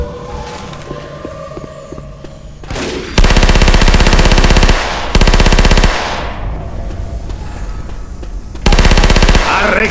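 Submachine gun fire in Left 4 Dead 2, loud rapid automatic bursts close up, several sustained volleys separated by short pauses, with no talk.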